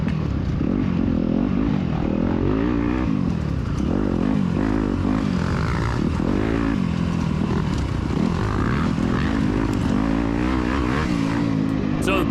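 Yamaha YZ250FX four-stroke dirt bike racing in a SoCal off-road event, its engine loud and close throughout, revving and falling with repeated throttle surges and gear changes.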